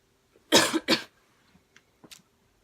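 Two sharp, close coughs from someone recovering from pneumonia, in quick succession, followed by a few faint throat sounds and small noises in a quiet room.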